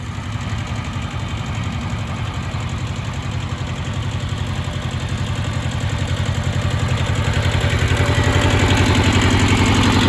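A tractor engine idles and runs with a steady low chugging pulse, close and loud, its rhythm quickening slightly toward the end while a child is at the controls.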